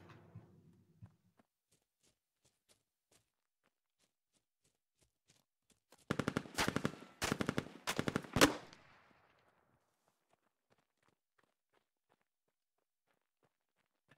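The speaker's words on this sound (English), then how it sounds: "Just across the street, took some light gunfire." Light gunfire in the tactical shooter game Squad: several quick automatic bursts crackle in a tight cluster midway through, then give way to near silence.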